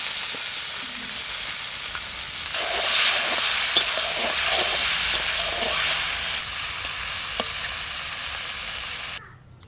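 Small fresh river fish from the Ajay river frying in hot oil, a steady sizzle and crackle with bursts of spitting and stirring, close by and without voices.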